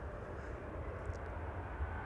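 An Air Baltic Bombardier C-Series 300 jet at Amsterdam Schiphol Airport, a faint, steady engine roar with low rumble from a distance, continuous and without talk.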